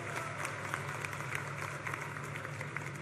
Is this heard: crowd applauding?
yes